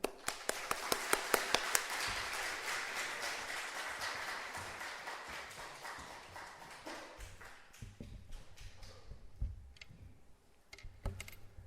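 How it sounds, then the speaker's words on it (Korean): A Korean church congregation claps to welcome a guest pastor, starting with sharp rhythmic claps that swell into loose applause and then fade into scattered claps. "우리 나오실 때 큰 박수로 우리 환영하도록 하겠습니다"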